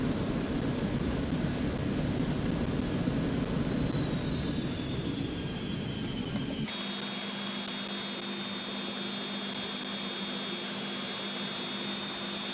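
A simulated Cessna Mustang business jet in X-Plane 11 hums with a steady engine whine and cabin drone, which shifts abruptly halfway through to a different tonal hum at a lower level, with no talk.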